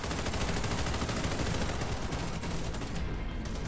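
Dense, continuous gunfire from a video game battle as a turret is shot at, a loud unbroken barrage of overlapping shots with no clear pauses.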